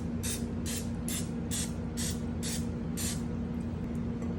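Vegetable cooking spray hisses into muffin tins in seven short, evenly spaced bursts, each about a third of a second, close and crisp over a steady background hum.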